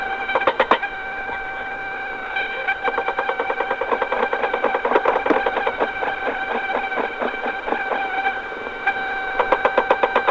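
Helicopter machine gun firing in rapid rattling bursts, staccato and dense, continuing through the whole stretch with short pauses between volleys, heard over a steady engine hum.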